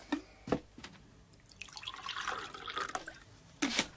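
Coffee is poured into a cup in a small writing shed, a trickling liquid stream running for a couple of seconds between a few sharp clinks and taps close by.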